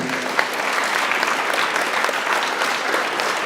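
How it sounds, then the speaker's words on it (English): Audience applause at a basketball awards night, a loud, continuous wave of clapping from many hands filling the room for a few seconds with no talking. "Let's have a big round of applause for them."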